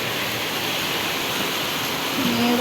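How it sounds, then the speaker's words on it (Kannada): Heavy rain pours down in a loud, dense, unbroken rush of noise, with a faint brief tone near the end and no talking. "ಫುಲ್ ಮಳೆ."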